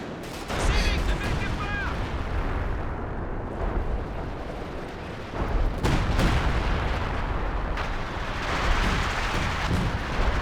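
Howitzer artillery in Company of Heroes 2 booms out in heavy, rumbling blasts over a dense battlefield din, with loud bursts near the start and again around the middle and end, while a commentator talks over it.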